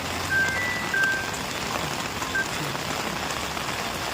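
Heavy rain pours steadily on surfaces outdoors, a dense, even hiss of drops that continues unbroken for a few seconds, with no voices.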